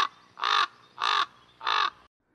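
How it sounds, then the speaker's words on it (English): A common raven gives three loud, harsh caws at even intervals, close and clear, followed by silence. "Ravens make many and varied calls and are reputed to have a language of over 200 sounds."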